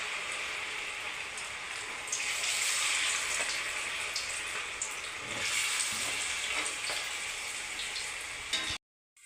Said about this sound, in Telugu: ఆయిల్ వేడెక్కిందండి ఇలా ఒక్కొక్కటిగా వేసుకొని